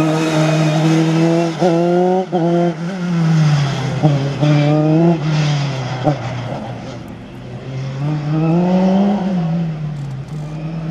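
A rally car running a slalom course at the Neufbourg slalom, its engine revving up and down through repeated gear changes as it passes, loud and close, with a French commentator talking over it.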